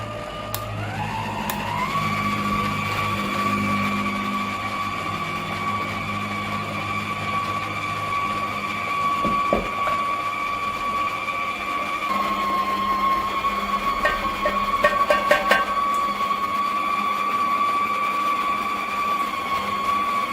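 A Karaca Multichef stand mixer grinds medium-fat meat at speed 3, a steady motor whine that ramps up in the first couple of seconds and then holds a constant pitch, with faint clicks and rattles along the way.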